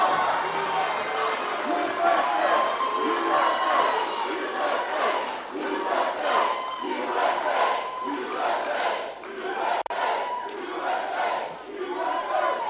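A large crowd at a JD Vance rally in North Carolina cheers and shouts loudly and steadily, with waves of yelling and scattered applause, and voices calling out within the roar.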